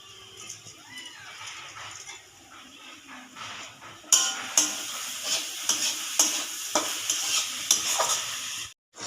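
Leafy greens fry in a pan with ground peanut paste, a soft sizzle at first, then louder scraping and stirring strokes in a steady rhythm from about the midpoint, close by, without talk.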